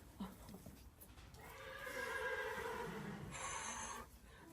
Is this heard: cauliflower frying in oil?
no